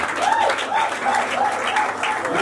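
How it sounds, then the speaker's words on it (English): Congregation at a church birthday celebration for a pastor gives steady applause, a dense wash of clapping with an even rhythm, while a faint voice rises and falls underneath. "You can go ahead and clap."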